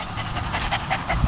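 A Scottish Terrier pants rapidly and steadily up close, with quick rhythmic breaths continuing through the short stretch and no voices over it.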